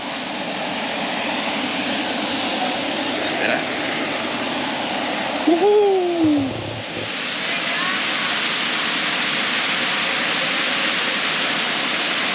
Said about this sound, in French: Ça c'est la petite cascade